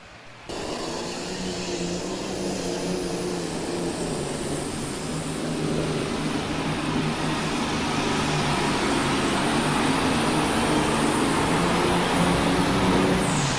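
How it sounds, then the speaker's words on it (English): Several Illinois and Indiana farm tractors run continuously at a national farm machinery show, a steady broadband engine roar filling a large indoor arena with no gaps. "2 fine running Illinois tractors, 3 fine running Illinois tractors, and 1 tractor from Indiana."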